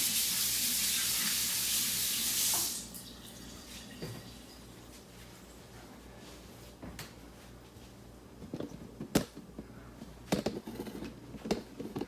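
A tap runs at a kitchen sink for hand washing, a loud steady hiss of water for about two and a half seconds before it shuts off, followed by quiet clatter and small knocks.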